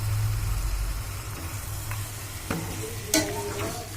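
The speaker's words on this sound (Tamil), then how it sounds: "பாருங்கள், இது நல்லா பிரட்டி விடலாங்க" Mutton curry masala is stirred in a pan over a steady, close sizzle of frying, with a low background hum and a few soft scrapes and clinks of a spoon against the metal.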